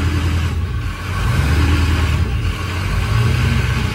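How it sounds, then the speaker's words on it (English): A Ford 6.0 Powerstroke diesel engine idles with a low, rumbling drone as the throttle is varied slightly, giving gentle rises and dips in engine pitch and loudness, recorded close up without talk. "Trying to vary the throttle a little bit at"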